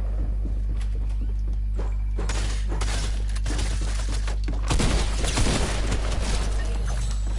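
Rapid bursts of Fortnite shotgun fire ring out among clattering gameplay effects and footsteps, loud and close, with several sharp volleys clustered in the latter half.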